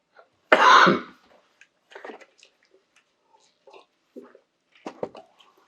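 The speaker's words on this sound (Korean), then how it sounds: "집안에 내려온 그것 때문에 제가 기침을 좀 해요" A single loud, harsh asthmatic cough bursts out, followed by quieter scattered mouth and throat noises and a few soft clicks in an otherwise quiet room during a church service.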